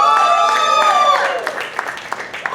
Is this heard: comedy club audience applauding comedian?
yes